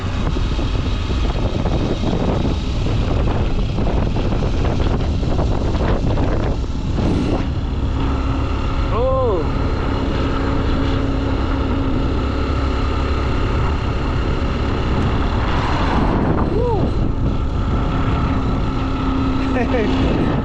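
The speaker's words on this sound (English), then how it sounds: "we have too much of the wind" Strong outdoor wind buffeting the microphone for a long stretch, a constant dense low roar with passing engine hums in a town setting while people speak over it.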